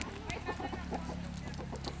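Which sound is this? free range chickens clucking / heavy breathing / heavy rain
free range chickens clucking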